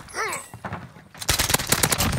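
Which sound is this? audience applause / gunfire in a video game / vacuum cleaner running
gunfire in a video game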